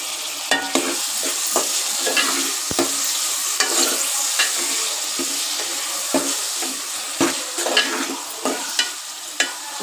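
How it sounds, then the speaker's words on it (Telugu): Snail meat stirred and frying in a pan with softened onions, a steady sizzle broken by repeated scraping stirs, close and continuous with no talking. "నత్తలు వేసుకుందాం. నత్త మాసం వేసానండి."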